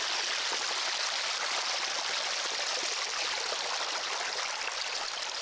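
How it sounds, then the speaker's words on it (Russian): A small forest stream flows steadily, a bright, close, continuous babble and trickle of water with no talk over it. "Еще вот один ручеек."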